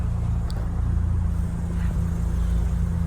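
A Mazda RX-7 FC's rotary engine drones steadily and close by, a continuous low rumble that stays level rather than climbing sharply.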